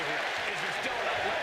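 A game crowd in WWE 2K25 roars and applauds in a continuous wash after a wrestler's taunt, with a faint voice mixed in.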